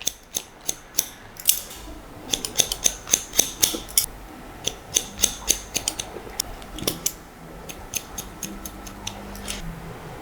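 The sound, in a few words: scissors point cutting hair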